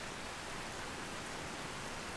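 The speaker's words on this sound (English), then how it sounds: "But it's raining." Steady rain falling in the video game Skyrim, a continuous broadband hiss with no distinct drops, quiet and unbroken throughout.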